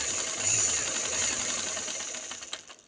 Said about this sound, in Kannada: ಈ ಥರ ಫುಲ್ಲು 1/4 ಇಂಚಲ್ಲಿ ಸ್ಟಿಚ್ ಹಾಕ್ಕೊಳ್ತಾ ಹೋಗ್ತೇನೆ ನಾನು.